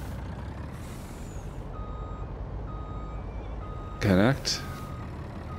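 A truck backing up in Farming Simulator 2019 gives steady, evenly spaced reversing beeps under a low engine rumble, with a brief air brake hiss near the end and someone speaking.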